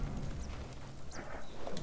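A black horse's hooves clip-clop in the video game Ghost of Tsushima, a soft, rapid rhythmic trot under a low rumbling game soundscape, faint and brief.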